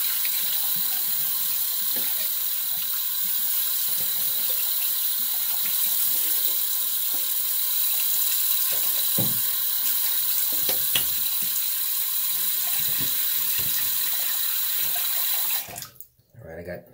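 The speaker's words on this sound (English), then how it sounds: "I got cold water in the sink just so I can use that to build my lather" Cold water runs steadily from a tap into a bathroom sink, a continuous close hiss and splash that cuts off near the end.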